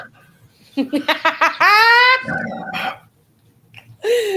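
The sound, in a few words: noisy, grumbly dog barking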